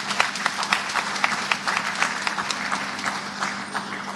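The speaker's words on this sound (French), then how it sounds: "Votre applaudissements." An audience applauding at an event, dense continuous clapping from many hands, steady and fairly loud for the whole stretch, with no speech.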